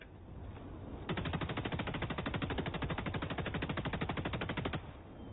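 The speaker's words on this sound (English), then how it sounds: "But just hold down the fire button" A video game weapon fires a long, continuous automatic burst of rapid, evenly spaced shots for nearly four seconds, loud and close, preceded and followed by quieter game ambience.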